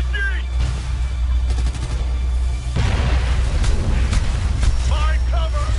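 RPG blast and surrounding gunfire in Ghost Recon Future Soldier, with a heavy boom partway through over steady shooting and in-game radio voices calling out.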